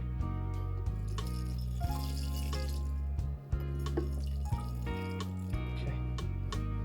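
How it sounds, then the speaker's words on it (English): Water pours steadily from a tap or can onto the soil of a freshly repotted houseplant, a continuous close splashing trickle with faint drips, no voices. "I just got to water it and then it should be pretty good."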